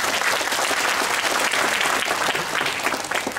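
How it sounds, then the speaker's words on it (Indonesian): Sustained applause from an audience at an ICT literacy technical training session in Indonesia, a dense steady patter of many hands clapping continuously throughout. "Tepuk tangan ya Pak Arief."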